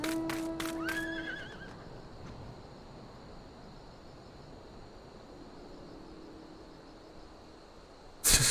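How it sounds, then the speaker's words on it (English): A horse in the Final Fantasy XIV game gives a loud, close whinny with rapid pulsing bursts at the start, then quiet ambient game background follows, ending with a sudden louder burst of sound. "Then the horse was so loud in my ear."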